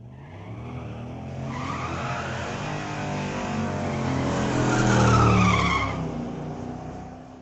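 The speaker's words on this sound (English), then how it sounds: "Even with all the wheel spin, he still gets there first" A drag racing car at Mission Raceway spins its tires on launch, a loud continuous roar of engine and screeching tire squeal that builds and swells before fading, with no talk over it.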